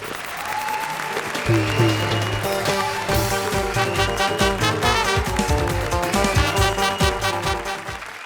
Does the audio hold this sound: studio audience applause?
yes